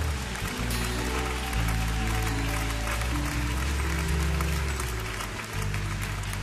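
A church congregation applauds together, giving dense, steady clapping that fills the room throughout, with a brief dip near the end.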